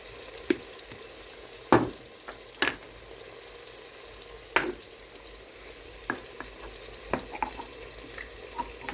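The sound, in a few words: garlic and beans frying in red palm oil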